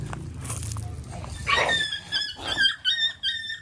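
A dog gives a run of high, squealing yelps and whines, several short cries close together in the second half, loud and near, over faint background noise with no speech.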